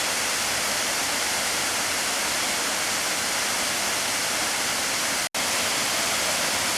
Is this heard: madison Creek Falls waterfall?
yes